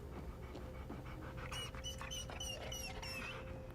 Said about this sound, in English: I found the poor pup whimpering alone in a house